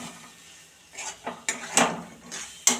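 Dhoka mixture stirred in oil in a kadai, a quiet start followed by a run of metallic spoon scrapes and clanks against the pan, with only a faint sizzle beneath.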